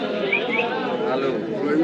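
Pigeons at an open-air pigeon market in Bangladesh coo and chirp in a steady, close chorus, with crowd chatter and talk running underneath throughout.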